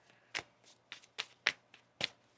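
Tarot cards are shuffled by hand in short, crisp riffles and taps, about five distinct quick bursts spaced across a couple of seconds, close and fairly quiet, with no talking.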